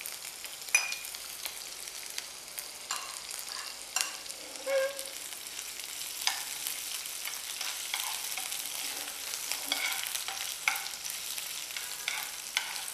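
Ginger, garlic and sliced green chilli fry in hot oil for a Chinese-style chicken chili, with a steady close sizzle, scattered crackles and occasional stirring scrapes throughout.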